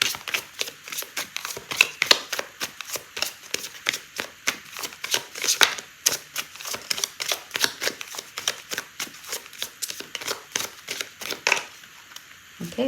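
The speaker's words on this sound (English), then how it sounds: "I'm going to pull out a card for timing" A deck of tarot cards is shuffled at close range. Fast, rhythmic riffling bursts repeat steadily throughout, with brief pauses between the bursts.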